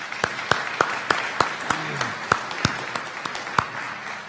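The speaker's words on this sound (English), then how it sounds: "If we give him a round of applause." Scattered hand claps from an audience at a governor's bill signing event, sparse and uneven individual claps ringing out in a room, with faint murmuring beneath.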